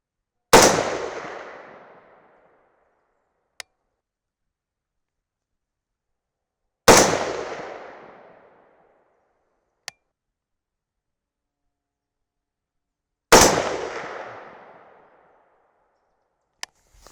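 Three loud, sharp gunshots from an Aero Precision M5E1 AR-10 rifle at an outdoor range, each booming report decaying over a couple of seconds, spaced about six seconds apart, with faint clicks of the action between shots.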